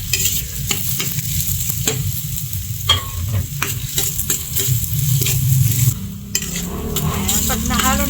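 Crab stew with chili stirred in a pan, a steady clatter and scrape of the spoon over a continuous loud sizzle, with brief pauses and pot knocks throughout.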